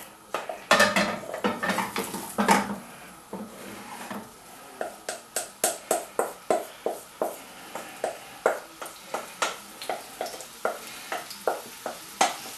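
A spatula scrapes and clatters in a pan with a little olive oil, first in irregular knocks, then in a steady rhythm of sharp metallic strokes over a faint sizzle, close by.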